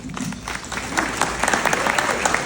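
Audience applause for sponsors at a Jazz at Joe's 2025 event, a steady wash of many hands clapping close and fairly loud throughout, with scattered sharper claps and a faint voice underneath.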